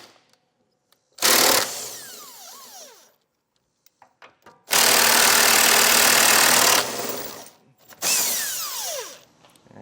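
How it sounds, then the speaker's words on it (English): A power tool with an 18mm socket removes the trailer hitch bracket bolts on a 2018 Ford Explorer, with three loud close bursts of whirring that wind up and down, separated by short quiet gaps and clanks. "we're going to be removing that using an 18mm socket"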